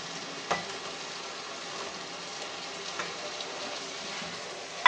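Fried potatoes being stirred into a cooked-down spice paste in a pan for a Bengali shol fish curry with new potatoes and bottle gourd, with a soft, steady sizzle, scraping of the spoon and a few clinks.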